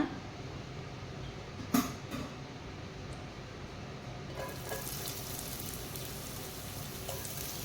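Ginger drops into hot oil for Gobi Manchurian; after a quiet start and a sharp clatter, a soft, steady sizzle builds and continues faintly.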